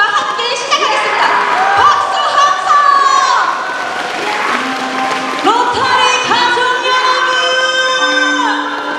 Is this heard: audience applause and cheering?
yes